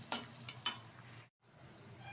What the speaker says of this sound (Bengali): আর এখন মাছ ভাজা তেলেই ভেজে নেব কিছুটা বড়ি বিউলির ডালের